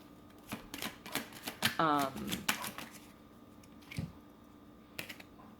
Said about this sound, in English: Let me just pull a couple more cards.